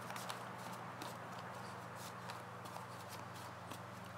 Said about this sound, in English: And I'm shuffling at the same time so that I don't have to once Natasha's done